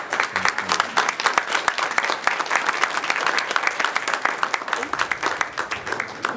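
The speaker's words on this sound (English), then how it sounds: "Now I'm going to ask people to refrain from clapping" Audience applause at a city council meeting: steady, dense clapping from a room full of people, moderately loud and continuous, with faint voices beneath.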